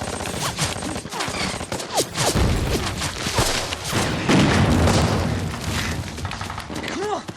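Dense gunfire from a war film battle scene, rapid machine gun bursts, booms and whizzing bullets layered into a loud, continuous barrage with thuds and shattering impacts throughout.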